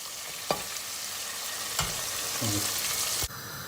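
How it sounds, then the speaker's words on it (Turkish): Chicken livers fry in hot reheated oil with a steady, even sizzle, punctuated by a few sharp clicks and knocks from utensils against the pan. "Hemen bir iki dakika daha yağı kızdırdık. Tekrar kalan ciğerleri atıyoruz."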